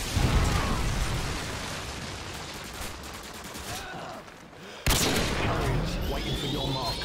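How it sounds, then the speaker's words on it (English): Dense explosions and gunfire from a Predator missile strike in the Modern Warfare 2 video game, a loud sustained barrage that dips briefly, then bursts back in with a sharp new blast and continued rumbling. "Friendly Predator inbound"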